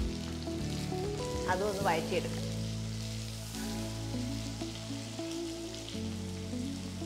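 Two medium onions sautéing in oil in a pan for a potato fry, a steady soft sizzle running throughout with a brief pitched tone near the start and a voice speaking over it.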